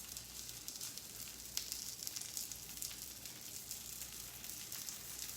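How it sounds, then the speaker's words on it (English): Faint, steady sizzle of a tortilla topped with cheese heating in a pan, a soft continuous crackle heard close but quiet with no voices. "With the tortilla in the pan, I'm going to go ahead and put my cheese on."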